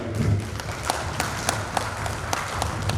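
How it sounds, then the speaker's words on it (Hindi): An audience applauds after an Independence Day lecture at the Income Tax office in Lucknow, a moderate, even patter of many hands with a few sharper individual claps standing out. "इसलिए ताली हो जाएगी आपको"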